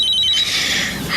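A cellphone rings at night with a high, warbling electronic tone that pulses rapidly, then continues as a brighter steady ring, loud and alone without any voices.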